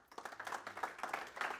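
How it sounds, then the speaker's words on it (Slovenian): An audience at a panel discussion for startup and scaleup mentors applauds, giving a short burst of dense, fairly quiet clapping with no voices. "Tako da en"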